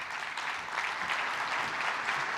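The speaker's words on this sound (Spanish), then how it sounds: "Lo recibimos con un fuerte aplauso y le damos la bienvenida a Santiago de Chile." An audience applauds steadily to welcome a guest speaker at a talk in Santiago de Chile, the dense clapping holding at an even level from start to finish.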